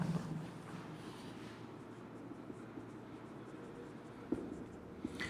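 Marker or pen quietly writing out a box for element symbols during a chemistry class, a faint steady scratching with a couple of small taps and no talk.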